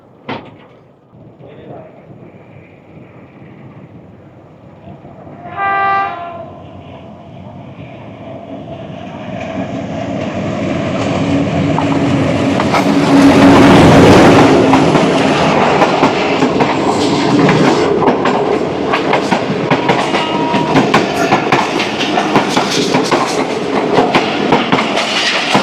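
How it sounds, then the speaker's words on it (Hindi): The 36 Down Sir Syed Express passes a halted train at a station, approaching with a brief horn and then a loud, sustained rumble and clatter of wheels on rails that stays heavy to the end. "तो ये गई सिस्टर ट्रेन सर सैयद की 36 डाउन सर सैयद एक्सप्रेस,"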